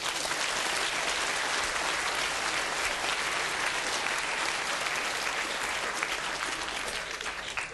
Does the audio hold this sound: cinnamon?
no